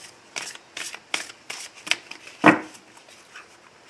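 Oracle cards being shuffled for a daily reading: a run of quick, crisp riffling bursts at an even rhythm, close up, with one louder snap near the end and no voices.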